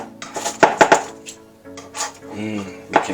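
Crispy breakfast hashbrown cups knock and scrape against a greased metal baking pan, with several sharp close clinks in quick succession, then softer rattling and scraping.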